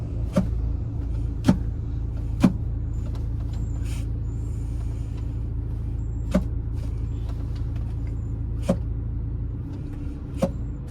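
An Audi Q5 driving and braking, heard from inside as a steady low road and engine rumble with a few sharp clicks scattered over it.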